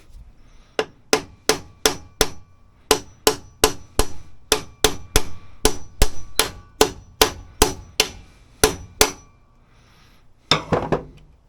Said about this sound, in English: Tappy tap.